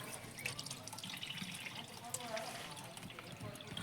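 An opened tap lets water run in a steady, hissing outdoor stream, close and continuous throughout, while voices talk faintly in the background.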